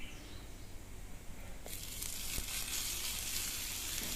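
Chopped medium tomatoes drop into a pan of onions for garlic rice, and the quiet background rises into a steady bright sizzle that continues to the end.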